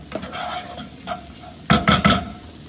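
Chopped onion sizzles in coconut oil in a pan, a steady frying hiss broken by several loud stirring scrapes clustered near the end, close by with no talking.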